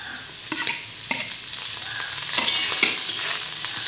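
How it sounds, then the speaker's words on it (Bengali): Freshwater snails (gugli) sizzle in a pan with potatoes, a steady bright frying hiss broken by several sharp spatula scrapes and stirs at irregular intervals. No one speaks. "এবার গুগলিগুলোকে একটু ভাজতে দেবো"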